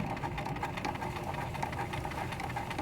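A sewing machine runs steadily up close, stitching the leg of a teddy bear, with a faint, even motor whir and no talking.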